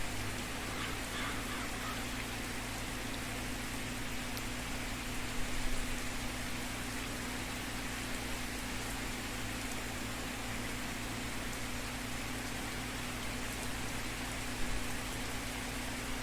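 Steady in-game rain from Farming Simulator 22 fills the whole stretch as an even, hissing wash of drops, with a low mechanical hum underneath and no pauses or clear individual impacts.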